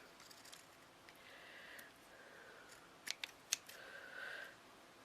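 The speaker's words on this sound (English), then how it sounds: "Now I'm just going to trim this neatly" Scissors snip and trim the fabric of a heart-shaped pin cushion, giving a few soft slicing strokes and then three sharp close clicks of the blades in an otherwise quiet room.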